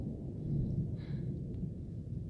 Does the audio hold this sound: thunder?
yes